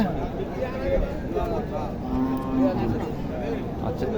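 A native Bangladeshi cow moos in low, drawn-out tones at a cattle market in Naogaon, while people talk over a busy, noisy background.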